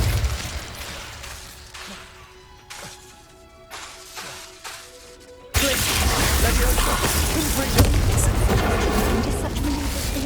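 An Incendio fire spell cast in Hogwarts Legacy begins with scattered impacts and ringing tones, then erupts into a loud, sustained roaring blast that fills the rest of the scene.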